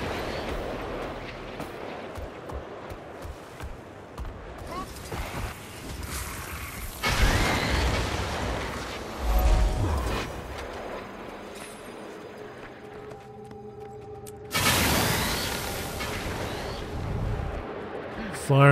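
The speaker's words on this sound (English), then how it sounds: "Big old cannons over here." Cannons in the Guild Wars 2 video game fire in two loud booming bursts, separated by mechanical clanks and battle ambience.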